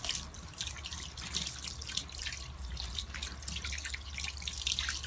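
Water drips and trickles from a soaked old sweatshirt during a DIY upcycling project. The patter of drops is steady and irregular, close and fairly quiet, with no talking.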